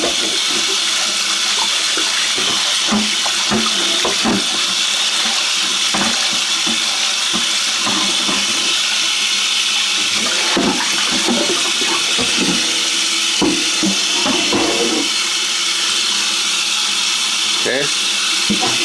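Cast iron pan scrubbed with the green side of a scouring pad under a running tap, no soap; steady rushing water throughout with irregular rough scraping strokes, and a person speaking over it at times.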